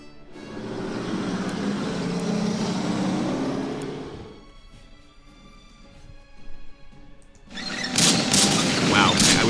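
Italian artillery firing in the wargame Order of Battle Sandstorm: a long rumbling boom swells and fades over several seconds, followed after a quieter stretch by a sharper burst of loud blasts and crashes near the end.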